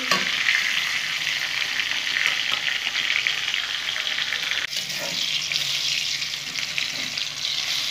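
Eggplant pieces frying in hot oil for a vegetarian eggplant dish give a steady, dense sizzle that stays loud and close, with faint stirring scrapes and no voices.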